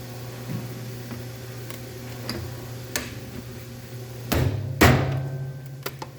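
A flimsy Infinity frame is struck at random in a strength test, producing scattered sharp knocks and taps over a low steady hum, with two louder hits close together near the end.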